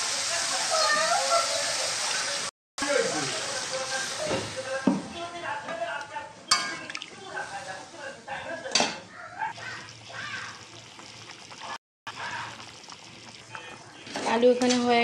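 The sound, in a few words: water poured into pangas fish curry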